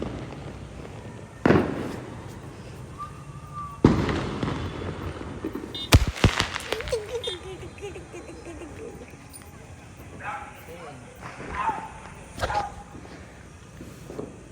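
Diwali firecrackers and rocket fireworks go off outdoors, with several sharp bangs and crackling bursts spread out over time, some loud and near, others fainter. People talk and call out between the blasts.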